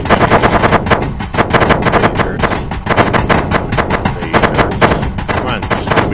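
Ship guns in the Space Engineers video game hammer a pirate base with loud, rapid, continuous automatic fire, shot after shot in a dense unbroken rattle.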